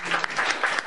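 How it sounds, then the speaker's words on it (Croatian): A short burst of applause and clapping from a group at a children's show, steady and fairly close with a few sharper claps standing out through the second. "Jedan aplauz"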